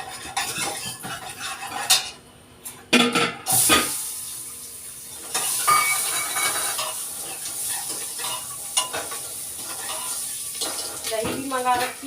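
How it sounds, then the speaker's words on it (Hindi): Onions and spices with turmeric sizzle in a pressure cooker, a continuous frying hiss broken by loud metal stirring clanks and utensil knocks against the pot, close up. "कुकर में छोक रही हूँ"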